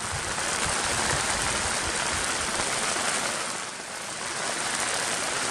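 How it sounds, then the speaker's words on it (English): Heavy rain pours down on a lake in a forest in a dense, unbroken hiss, loud and close, easing slightly for a moment before resuming its steady roar. "Let it rain."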